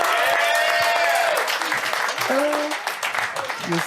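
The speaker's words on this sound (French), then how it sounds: "on applaudit ma blonde" A comedy show audience applauds in a loud, dense burst of clapping that slowly thins, with cheers and scattered voices rising above it.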